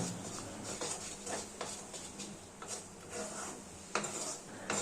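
Pointed gourd being stir-fried and pressed in a pan to drive off excess water, with scraping spatula strokes and soft clatter against the pan repeating at an uneven rhythm, close and moderately loud with no talking.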